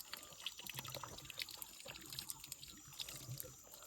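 Spring water trickles and drips in a forest, a faint, continuous stream of light splashing with scattered droplet plinks, soft and close.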